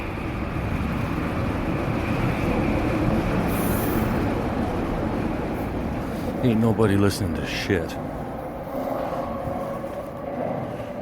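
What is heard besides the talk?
automated Vancouver SkyTrain passing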